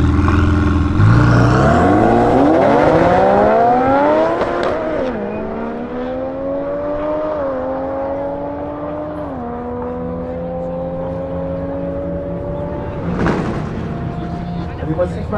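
A Ferrari 488 Pista rated at 720 hp accelerating hard in a drag race, its engine note climbing through several gear changes, loud and close, under a commentator talking over it.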